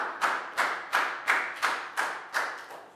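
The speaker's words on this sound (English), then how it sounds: "High five and a big round of applause for Nadia" Classroom applause for a student in a Year 4 science lesson comes as steady rhythmic clapping, about eight even claps, close and fairly loud, with no talk over it.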